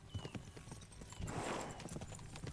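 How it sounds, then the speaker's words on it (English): Horses gallop in Kingdom Come: Deliverance II, a rapid, steady clip-clop of hooves pounding close and loud throughout, with a brief whinny-like swell near the middle. "We should spur the horses on."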